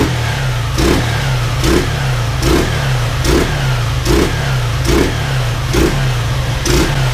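A Honda Titan KS 125 motorcycle with its air filter removed revs up close and loud, its raspy engine note jumping in quick repeated bursts at an even pace over a steady low rumble.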